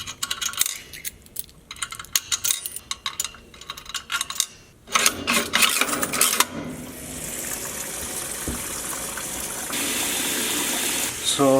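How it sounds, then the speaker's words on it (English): A washing machine churns with irregular clunks and sloshing, then shifts to a steady rushing, pumping flow of water that carries on for several seconds, loud and close. "Want to see something really cool about this washing machine?"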